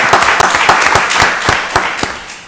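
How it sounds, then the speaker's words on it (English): Audience members at a Rockdale County Board of Commissioners meeting break into a dense, loud round of applause, sharp claps rippling steadily throughout with no voices above it. "Give her another round of applause"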